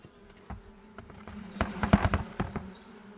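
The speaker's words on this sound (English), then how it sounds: "I'm going to shake these bees" Dense honey bee buzzing with a steady hum, rising as sharp knocks and rustles break through while a hive frame is shaken, stirring up a crowd of bees close by.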